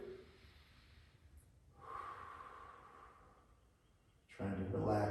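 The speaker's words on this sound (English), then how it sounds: "Take a breath or two" Deep breathing during a gentle morning stretching routine: a slow, soft inhale and exhale heard close up and quietly, followed by a louder burst of breath near the end.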